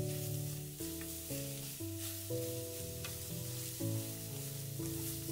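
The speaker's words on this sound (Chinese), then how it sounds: "然后我们把蒜末全部放入锅中，快速的翻炒一下，炒出蒜香味和辣味。" Minced garlic sizzles in hot lard in a wok during a quick stir-fry, a steady close frying hiss that runs continuously beneath background music.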